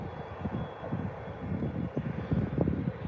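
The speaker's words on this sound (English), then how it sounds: "So here's the EasyJet from Bristol." An EasyJet airliner from Bristol at Lanzarote Airport gives a steady low engine rumble, moderately loud and continuous, with some wind buffeting and no talk.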